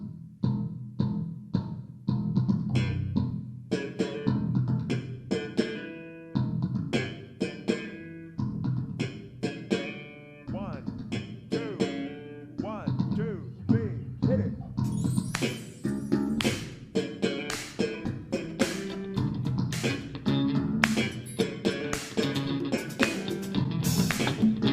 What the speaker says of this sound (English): turn his bass almost into a percussion instrument while he plucks and beats on the strings